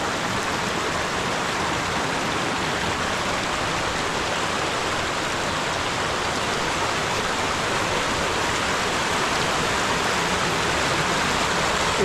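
Water rushes steadily over a drop-off in a forest stream near Dutchman Falls, a constant broad hiss and roar heard close by with no other sounds.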